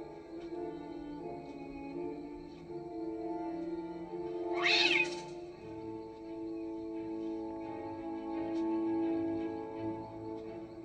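A cat lets out a single brief meow near the middle, rising above a steady hum of background sound and music-like tones, with no talking.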